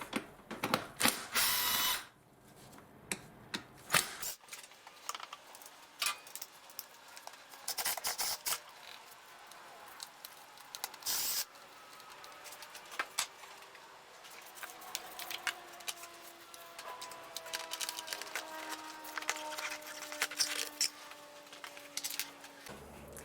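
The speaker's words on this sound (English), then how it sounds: "So those are the little Allen screws. Just be careful when you remove that" Small Allen screws being removed from the engine cover of a 2011 BMW E90 318i, giving faint close ratcheting clicks and light metallic ticks with a few louder knocks over a quiet workshop background.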